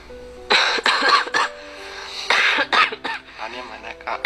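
A person coughs repeatedly while recovering from an illness with a blocked nose: harsh, close bursts come in two clusters separated by a short pause, and some throat clearing mixes in.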